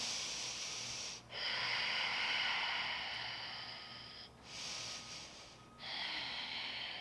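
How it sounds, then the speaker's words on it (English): Slow, deep breaths from a person holding a yoga splits stretch, with three long airy inhale and exhale cycles close by and fairly soft, separated by brief pauses. "Just last couple of breaths here."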